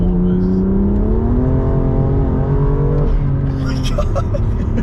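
A car engine fitted with MST intakes revs hard and climbs in pitch, a loud throaty roar with whooshing intake noise, close by and steady for several seconds.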